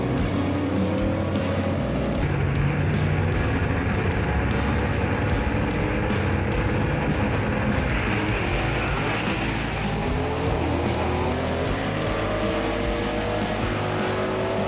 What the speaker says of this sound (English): Randy Kiefer, the number 2 qualifier here today, is going to be in the quick-time performance lane in his Pontiac Chieftain right here